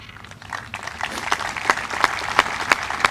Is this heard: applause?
yes